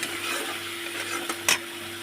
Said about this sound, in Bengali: সমস্ত মশলাগুলো আমি ভালো করে কষিয়ে নেবো